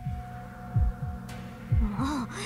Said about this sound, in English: The heartbeat that I had forced to silence earlier sounds like a drum solo now.